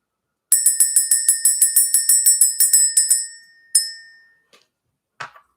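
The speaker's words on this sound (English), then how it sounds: "We're going to ring the bell" A small bell is struck about fifteen times in quick, even succession, bright and ringing close by, then one last separate ding rings out and decays, followed by a faint rustle.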